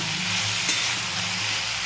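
Vegetables frying hard in a pan, a loud, dense, continuous close sizzle with a faint steamy hiss and no voices.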